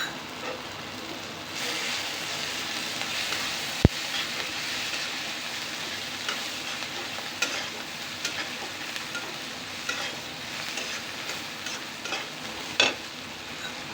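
Turmeric and green chilli thecha stirred through onions in a frying pan, a steady soft sizzle with scraping spoon strokes and occasional sharp clicks, no voices.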